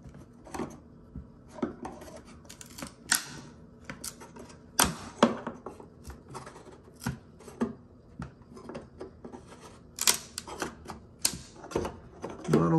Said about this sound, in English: I'm just gonna go along here and pull it all open